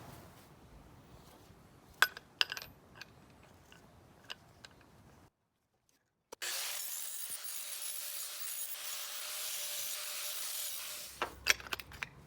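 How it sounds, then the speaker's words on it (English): After a few light metallic clinks and taps, then a brief silence, an angle grinder runs steadily for several seconds, cleaning up sharp metal edges on a fishing transducer mount with a loud, even hiss and whine before stopping. "I'm going to now take the grinder and clean this up so these edges are really sharp"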